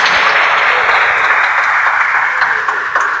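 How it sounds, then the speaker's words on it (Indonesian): A church congregation at a Sunday service claps to welcome a young preacher forward, a loud, continuous, even wash of applause lasting about three seconds. "Kita kasih tepuk tangan."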